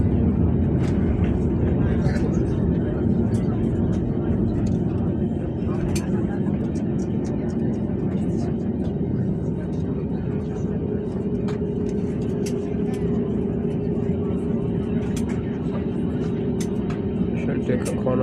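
Aircraft landing on the runway at Fuzuli International Airport in Azerbaijan, a steady, loud broadband roar of engine and cabin noise that holds throughout.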